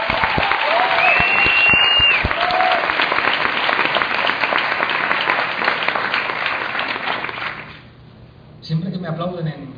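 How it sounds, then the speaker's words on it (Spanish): An audience applauds a political speech at an evening event in New York with loud, dense clapping that holds steady, then fades near the end and gives way to a voice. "Siempre que me aplauden en un sitio devuelvo el aplauso."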